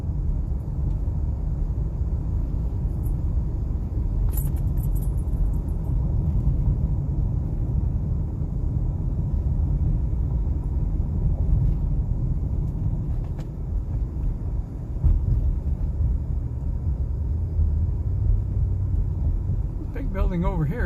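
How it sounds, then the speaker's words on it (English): Road traffic in Globe, Arizona, heard from inside a moving vehicle as a steady low engine and tire rumble throughout, with a few faint clicks and passing noises on top. "Seems like there's a lot of traffic at Globe"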